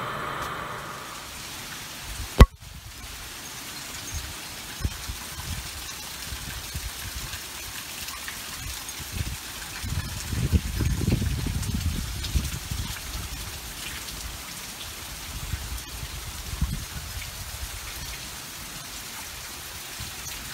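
Rain falls and drips outdoors after Hurricane Harvey in Lake Charles, a steady even hiss of rainfall with scattered close drips, one sharp knock early on and a brief low rumble midway.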